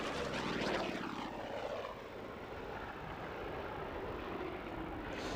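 A Vought Corsair propeller fighter flies past at a British airshow, its distant engine drone rising then easing into a steady far-off roar with a sweeping pitch shift as it passes.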